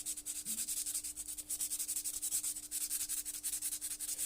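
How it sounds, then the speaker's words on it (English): Sandpaper rubs back and forth across the metal prongs of a leather stitching chisel, a steady close scratchy scraping in quick repeated strokes with no talk. "Grab our stitching chisel, grab our sandpaper, just sand it."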